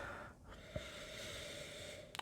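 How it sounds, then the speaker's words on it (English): A single close, quiet nasal sniff over a glass of bourbon barrel-aged wild ale with cherries, with faint breathing and a soft rustle in an otherwise quiet room. "So let's give it a swirl and sniff to check out the aroma."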